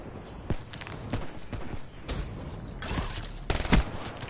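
Gunfire in a Call of Duty match, with several sharp shots scattered at irregular intervals over a busy background of game noise, one louder burst near the end.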